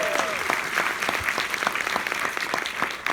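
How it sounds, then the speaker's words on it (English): An audience at a season premiere watch party applauds, a dense, steady clatter of many hands clapping that carries on for about three seconds, with a brief voice at the very start. "Let's give it a round of applause."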